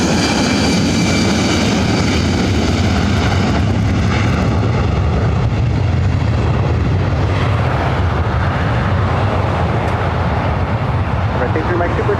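Jet airliner taking off from runway 24 right at LAX, a loud continuous roar of engines at full thrust filling the whole stretch, with radio chatter from the tower running over it.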